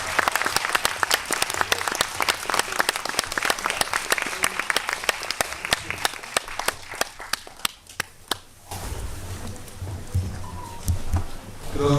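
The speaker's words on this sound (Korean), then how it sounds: "큰 박수 많이 해주세요" Big burst of applause from a cinema audience at a film Q&A with the director and actor, dense steady clapping for several seconds that thins toward the end as crowd murmur takes over.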